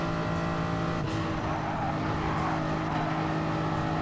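A Toyota Supra race car in a racing video game, heard from onboard at Suzuka, gives a continuous loud, buzzing engine note held at high revs, with a brief dip in pitch near the one-second mark.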